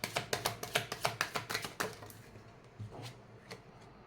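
Tarot cards are handled and drawn: a quick run of rhythmic papery flicks like a shuffle, then a few slower, separate card snaps close by, with no talk.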